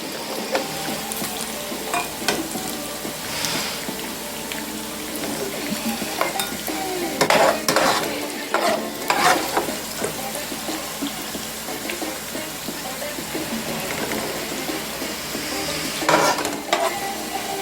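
Bacon sizzles and fries in a pan while being stirred, with scraping and clinking at intervals and a few louder bursts over a steady crackling background, no talking.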